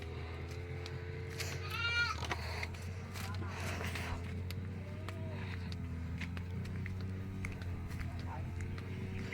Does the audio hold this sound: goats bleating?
yes